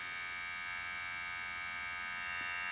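Electric men's hair clipper running on its lowest speed setting, a steady faint high-pitched whir with a thin buzzing hum, close and alone.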